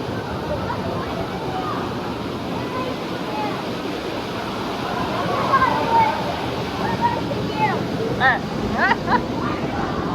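Water park waterfall pouring in a steady rushing wash, with people talking and calling out nearby and a few brief louder voices toward the end.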